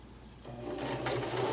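A sewing machine stitches a towel bib, starting with a low hum and breaking into a rapid, steady mechanical chatter close by.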